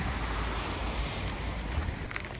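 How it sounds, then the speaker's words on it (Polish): Light, steady wind blows across the microphone at the ski jumping venue in Lahti, a soft continuous low rumble of gusting air with no voices. "O, leciutko podwiewa, ale bardzo lekko."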